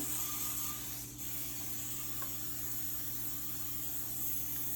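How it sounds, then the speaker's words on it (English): Steady hissing spray from a pump mister spraying canola oil onto a stoneware pizza pan, continuous and close, lasting several seconds with a faint low hum underneath. "I'm just going to try to spray as evenly as I can my pan"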